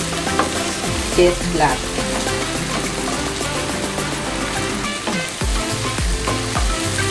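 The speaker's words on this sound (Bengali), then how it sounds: "এখন একটু নেড়ে নেড়ে ভাজতে হবে" Potatoes and egg fried together in a pan, a loud continuous sizzle with repeated scraping strokes of the spatula throughout, close by, while someone speaks briefly over the cooking.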